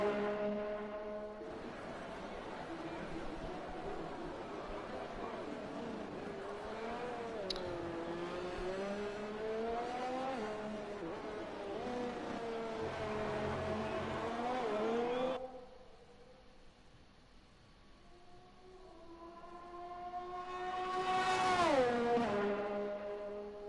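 A Formula 1 race car in F1 2020, Vietnamese GP, screams through gear changes with a high, wavering engine note, drops away briefly, then surges loud again as it revs back up, no talk.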